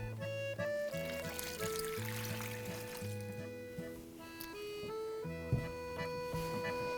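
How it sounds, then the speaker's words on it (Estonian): Water is poured into a bowl of rye bread dough in a steady, continuous trickle lasting several seconds, set against a constant tonal background hum. "Ja siis panemegi selle vee."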